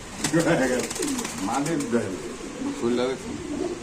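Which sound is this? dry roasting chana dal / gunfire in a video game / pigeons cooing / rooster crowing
pigeons cooing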